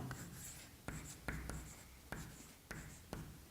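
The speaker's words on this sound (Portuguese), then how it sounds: "Vamos escrever assim, pessoal." Chalk or marker tapping and scratching on a classroom board during a Portuguese grammar lesson, a steady run of strokes with several sharp taps at irregular intervals, close and fairly quiet, no talking.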